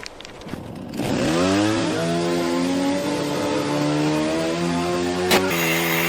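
A power saw cuts through a door, its motor revving up after a brief clatter and then holding a loud, steady whine with rising harmonics, with a sharp metallic knock near the end.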